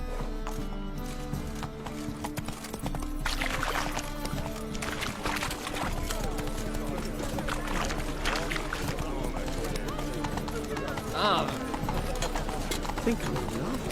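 Roach, a horse in Witcher 3, trots and gallops with a steady clip-clop of hoofbeats under continuous game sound and a speaking voice, the rhythm fairly even and moderately close.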